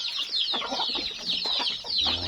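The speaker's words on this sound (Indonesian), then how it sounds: "Setiap sore ayam dikasih makan." Chickens cluck at evening feeding time, a close, busy run of short calls overlapping one another, fairly quiet overall.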